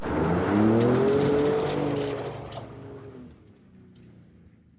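Ford F-150 Raptor truck with a 450-horsepower engine and 10-speed automatic transmission driving past, a loud rising engine roar that fades away into the distance, leaving quiet ambience with faint birdsong.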